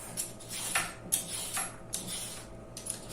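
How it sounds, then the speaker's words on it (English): A vegetable peeler scrapes the skin off a washed butternut squash in short, repeated strokes, each a brief rasping scrape, close and moderately quiet with no talking. "I'm just going to use a veggie peeler and take the skin off"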